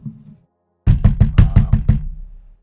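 Knocking at a jail door, a quick run of about seven firm knocks, close and clear, after a brief low murmur and a short silence.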